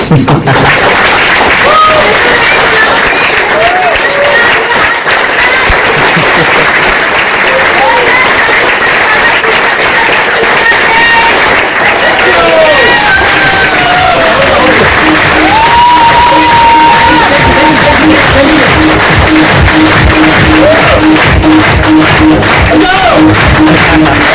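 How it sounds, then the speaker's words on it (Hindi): A large audience at a success celebration bursts into loud, sustained applause with cheering and whoops, dense clapping filling the whole stretch while voices shout over it. "लेकिन तालियां चाहूंगी जोरदार"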